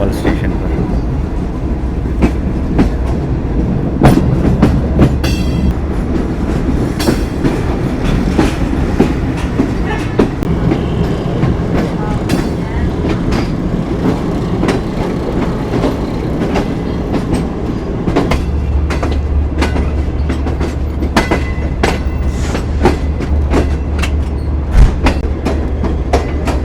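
A train on Pakistan's ML1 line arrives at Khanewal station via the loop. Loud, continuous rumble and clickety-clack of wheels over track joints run throughout, with a voice talking over it.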